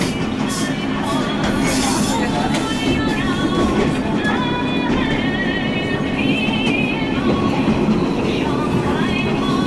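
Heard from on board, a train on the West Highland Line rumbles steadily toward Glenfinnan Viaduct, wheels clattering and faintly squealing over a constant loud roar, with a voice briefly audible.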